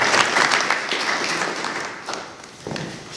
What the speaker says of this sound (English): I'd like for us to give an applause for our police chief, Chief Frank Smith.